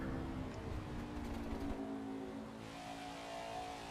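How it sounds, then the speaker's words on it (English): A race car at Pocono in the NASCAR 21: Ignition video game runs with a steady engine drone and a faint rattling vibration, and the engine note drops as the throttle lifts partway through. "I heard just like a rattling noise, like there's a vibration."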